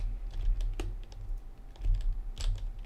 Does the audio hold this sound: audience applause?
no